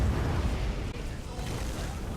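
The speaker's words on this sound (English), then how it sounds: "Spectral explosion right here." A spectral explosion goes off during a video game boss fight, a dense rumbling boom with heavy low-end roar that swells and sustains over a couple of seconds.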